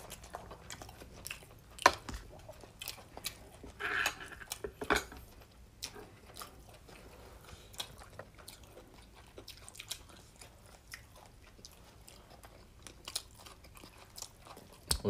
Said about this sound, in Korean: 우리 차돌박이 먹어요.